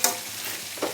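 Homemade masala stirred and frying in a pan for stuffed brinjal, giving a soft continuous sizzle with a brief scrape of the spoon near the end, close and quiet.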